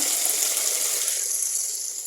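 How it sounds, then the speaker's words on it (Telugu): Tap water runs steadily into a bowl with salt in a kitchen, a constant close gushing hiss that fades slightly toward the end. "ఒక గిన్నెలో అయితే సాల్ట్ వేసుకొని నీళ్ళు పట్టేసుకుందాము"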